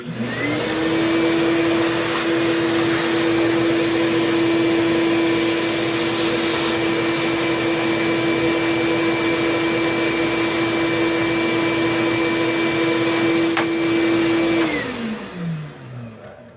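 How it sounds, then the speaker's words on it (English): A vacuum cleaner cleaning dust from a PS5 console runs loud and steady with a high whine, then spins down near the end. It is close by and no one speaks. "Let's hit it with the vacuum one more time and the brush."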